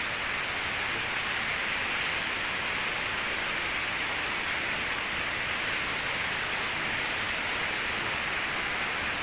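A waterfall in Attapeu Province, Laos, pours in light rain, making a steady, dense, hissing rush that holds constant for the whole stretch with no talking.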